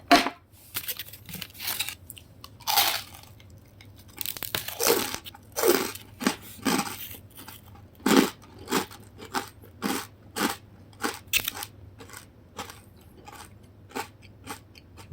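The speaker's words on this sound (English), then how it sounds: "This is the most crunchy crust I've ever" Repeated crisp bites and crunches into something crusty, close up, in uneven bursts with short pauses between, no talking.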